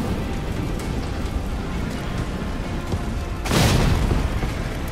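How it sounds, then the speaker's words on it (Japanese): A deep booming explosion in the video game Resident Evil 3 bursts in after a stretch of rumbling game ambience, loud and broad, then holds as a roaring wash to the end. "爆発した"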